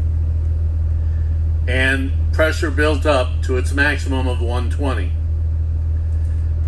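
A school bus engine idles with a steady low droning hum that runs unchanged throughout, while someone talks over it for several seconds.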